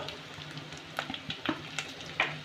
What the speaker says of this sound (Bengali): এবার একটু নেড়ে নেব একটু সামান্য কষে নেবো মশলাটাকে